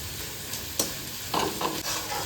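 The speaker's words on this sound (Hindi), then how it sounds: "मैं नमक अभी रख लेती हूँ ताकि प्याज अच्छे से फ्राई हो जाएगा" Onions fry in a pan with a steady soft sizzle, broken by a few short stirring scrapes; fairly close and moderately quiet, with no talking.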